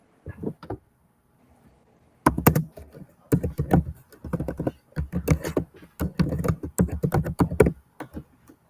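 Rapid clicking keystrokes on a computer keyboard, close and fairly loud, after a brief pause with a few early taps.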